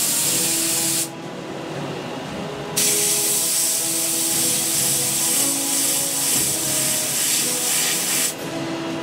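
An airbrush sprays paint onto a model Panther tank for Bolt Action, a steady close hiss that cuts out briefly twice and resumes, with faint background music running underneath.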